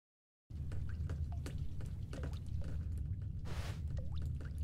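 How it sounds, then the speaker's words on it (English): Water drips in The Stanley Parable Ultra Deluxe: scattered drops plink and splash one after another over a low steady hum, with no voices. "More drip drips."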